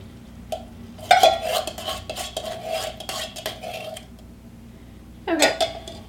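Light coconut milk is added to a creamy coconut curry in a pot and stirred, with clinking utensil strokes against the pot in two busy bursts separated by a quieter stretch, close and fairly loud.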